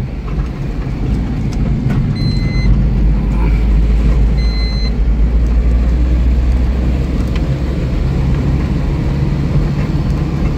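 A car passes on a winding mountain road near Kalimpong: a loud, close, continuous rumble of engine and tyres that holds steady throughout, with faint high tones above it.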